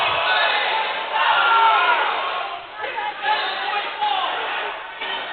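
Basketball crowd at a Bryan College men's game against Dalton State roaring and shouting in reaction to a referee's call, a loud sustained swell of voices that dips and surges again.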